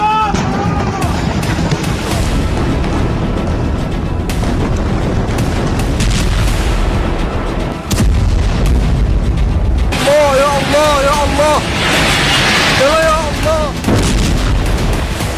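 Israeli air force bombing strikes on Lebanon, heavy booming blasts and rumbling impacts repeating through a continuous roar of noise, with a person speaking at times.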